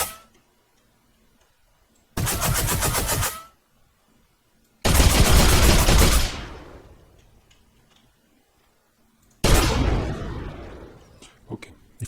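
Three loud gunshot bursts in a video game, each tearing apart a swinging bridge with a crackling, rattling collapse and decaying debris, separated by short silences.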